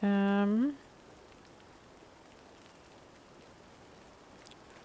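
Steady rain in the game Sherlock Holmes: Nemesis, a soft continuous hiss of falling drops that carries on after a short tonal chime at the start.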